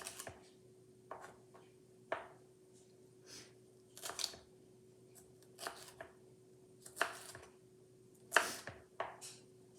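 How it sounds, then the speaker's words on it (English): Knife julienning peppers on a cutting board, placed skin side down: a series of distinct, close chopping strokes in irregular clusters, fairly quiet against a faint steady hum, with no talking. "now we are going to julienne the peppers"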